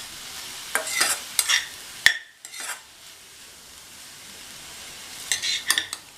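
A spoon scrapes and knocks through chow chow poriyal in a pan, several sharp stirring clacks in two bursts separated by a quieter sizzling lull, close and clear with no talking.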